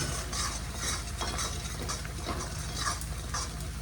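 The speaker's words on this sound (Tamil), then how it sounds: "வெங்காயத்தோட கருவேப்பிலையை கொஞ்சம் வறுத்து இதில் சேர்த்துக்கிறேன்" Curry leaves and onion frying in a pan, giving a close, steady sizzle and crackle with light scraping of a stirring utensil throughout, no voices.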